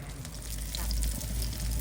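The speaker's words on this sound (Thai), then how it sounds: "หั่นเรียบร้อยแล้วก็เอาลงกระทะทอดนะคะ" Sun-dried snakehead fish fries in a pan with a little oil, giving a steady close sizzle and crackle that swells slightly and holds throughout.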